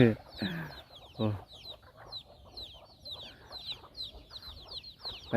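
A flock of chickens clucks and squawks close by on a farm, a busy run of short calls with louder bursts from a nearer bird, and a voice briefly in the mix.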